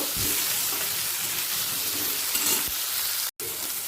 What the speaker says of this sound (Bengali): টমেটোটা আলুর সাথে এক মিনিট মিডিয়াম ফ্লেমে ভেজে নেব